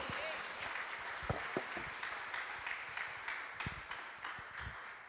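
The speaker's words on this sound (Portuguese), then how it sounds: "as palmas mais uma vez é para o nosso Deus" A church congregation applauds during an online worship service, a steady wash of many hands clapping at moderate distance that continues throughout, with faint voices mixed in beneath.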